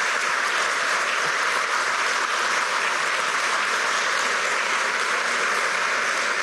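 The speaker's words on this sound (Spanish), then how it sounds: "Vamos a aplausos." A crowd at a sociopolitical gathering breaks into prolonged applause, a thick, even wash of clapping hands that stays loud and uninterrupted from start to finish, with no speech over it.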